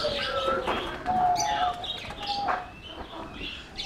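Pigeons kept outdoors on a windy day: soft chirps and coos from nearby birds, mixed with rustling wind noise and faint background sounds.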